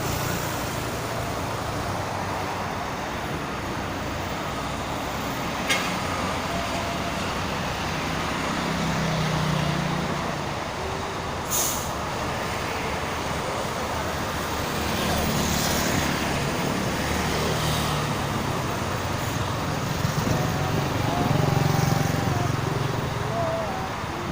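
Jammed traffic on the Jakarta-Cikampek toll road gives a continuous, loud roar of idling and creeping cars, buses and trucks, with gusty wind and occasional engine swells throughout.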